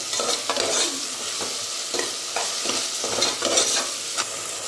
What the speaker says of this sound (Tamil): இப்போ நல்லா தக்காளி நல்லா ஸ்மாஷ் ஆகிற அளவுக்கு நல்லா வதக்கிடலாம்.